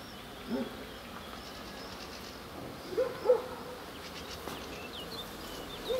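Young honeybees flying around a hive, a steady close buzzing drone with a few louder passes as bees come near, no talking.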